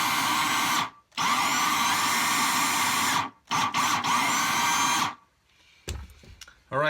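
Loud, steady high-pitched whir of a cordless drill in good working order, run in several bursts separated by short pauses, close to the listener.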